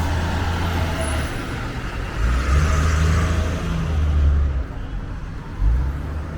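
Heavy traffic rolling north on Dufferin Street in Toronto, a dense rumble of cars and trucks with engine drones swelling and fading as vehicles pass close by, continuous and fairly loud.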